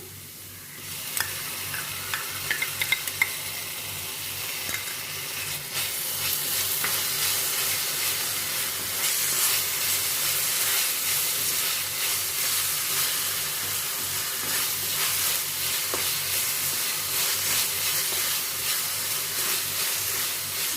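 Ginger garlic paste sautéing in a pan for yam cutlets. A few stirring knocks come first, then a loud, continuous hissing sizzle sets in and holds steady.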